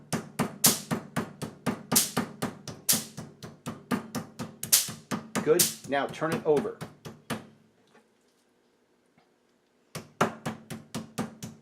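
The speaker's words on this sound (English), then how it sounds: "we're going to now pound them so they're even more tender" Rapid, sharp thumps of a hammer pounding chicken fillets in a steady rhythm under a brief voice, stop for a couple of seconds, then resume with more hard strikes.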